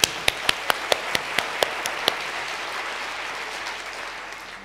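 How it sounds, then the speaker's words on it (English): A scattered round of applause at a University of East Anglia lecture, starting with a quick run of distinct, evenly spaced claps that thin out after about two seconds into a soft, fading room hush. "Should we give Stephen a round of applause for that?"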